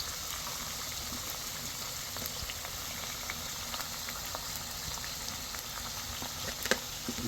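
Pumpkin with turmeric and chili powder simmering in a pan, a steady close bubbling and soft sizzle with scattered faint pops and a slight knock near the end, no voices.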